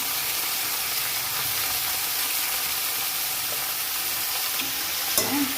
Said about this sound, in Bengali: এই নোটে শাকটা ভাজলাম